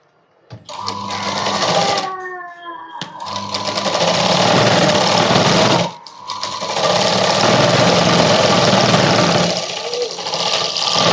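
A sewing machine runs in loud continuous bursts while stitching two fabric pieces of a kids' night dress together, pausing briefly between runs, with no talk over it.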